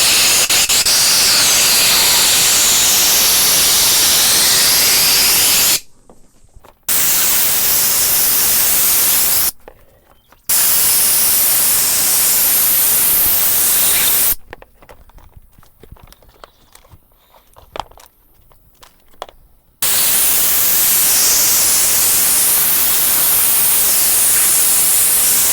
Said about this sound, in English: If you don't have access to one of these air compressors, then a can of compressed air will do the same.